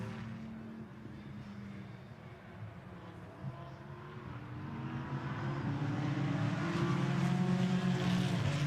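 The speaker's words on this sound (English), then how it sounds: "Robert Consani accelerates up towards the hairpin." A GT4 race car on the Misano circuit accelerating toward the hairpin, its engine note climbing steadily and growing louder and nearer over several seconds.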